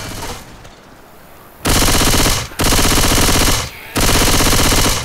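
Loud, sustained automatic gunfire in Left 4 Dead 2 as zombies are shot, coming in three long continuous bursts with brief gaps between them.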